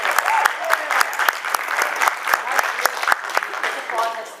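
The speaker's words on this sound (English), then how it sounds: "This applause has 3 angles." Audience applause at a Nashville Comic Con 2015 panel on careers in video games: a room of people clapping steadily with sharp individual claps standing out, loud and close, with a few voices mixed in.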